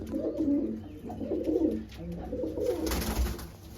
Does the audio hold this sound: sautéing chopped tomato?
no